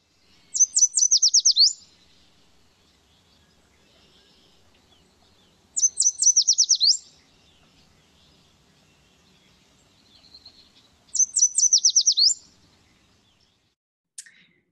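Songbirds sing in three short bright bursts of quick, rising chirps, evenly spaced and fairly close, over a quiet outdoor background along the San Pedro River.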